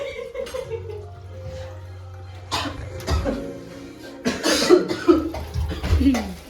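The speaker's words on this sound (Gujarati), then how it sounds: "ના ઉધરસ ખાવા માંડ્યા" Someone coughs in several rough bursts in a home kitchen while Maggi noodles are being made, mixed with throat clearing and nearby talk.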